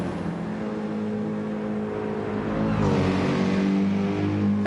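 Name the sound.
GT race cars passing at speed during Bathurst 12 Hour qualifying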